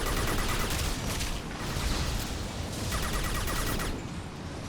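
Weapon fire in the video game Mass Effect 2, with dense, continuous bursts of shooting and impacts that rise and fall in waves, loud and close, with no voices.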